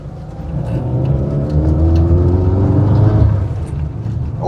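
A 1993 Mini Italian Job Special Edition engine revs loud and close, a steady rorty drone that climbs in pitch and then eases off, with no voices over it.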